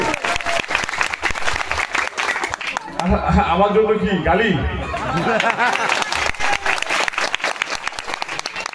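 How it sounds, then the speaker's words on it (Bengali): A crowd at a gathering bursts into loud, dense clapping and cheering, with a voice speaking over the applause in the middle before the clapping carries on. "তাদের জন্য আরো জোরে হাততালি।"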